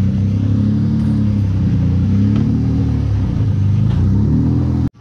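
A Honda VTEC engine running after a crank sensor replacement, a loud, steady idle rumble close by with slight rises in revs, cutting off abruptly at the end.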